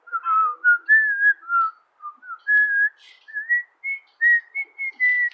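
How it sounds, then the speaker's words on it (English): A person whistles a slow, clear melody up close, with a string of distinct pitched notes separated by short breaths and pauses. "Can I whistle?"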